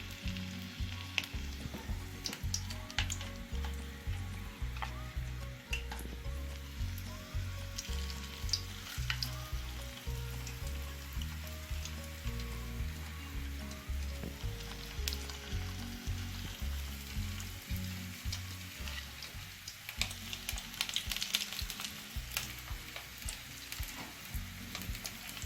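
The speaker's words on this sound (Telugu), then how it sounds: "మీడియం ఫ్లేమ్లో పెట్టుకుంటే మనకు ఫ్రై బాగా మంచిగా ఫ్రై అవుతుంది చికెన్ పీసెస్ అనేది" Chicken pakora pieces fry in hot oil over a medium flame, a dense crackling sizzle that carries on for about 25 seconds with occasional stirring scrapes and no voices.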